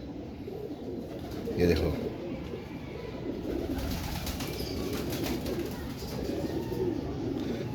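Imam Deen breed pigeon cooing softly amid a dense, steady background, with someone talking over it and a brief louder burst near the two-second mark.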